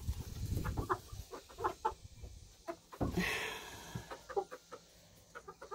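Chickens huddled in the nesting boxes of a coop, clucking softly and steadily at close range, with a brief louder squawk partway through.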